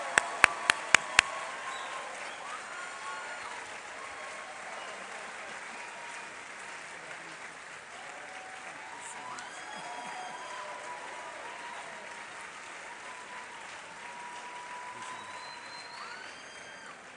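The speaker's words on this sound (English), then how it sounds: "with a standing ovation and a big round of applause" An audience gives a standing ovation to Professor Alexander Yaw Debrah at his inaugural lecture. A few sharp close claps open a long, steady, moderately distant round of applause.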